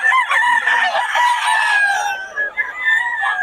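Fighting roosters crowing close by, several overlapping cock-a-doodle-doo calls mixed with clucks, loud and alone with no talk.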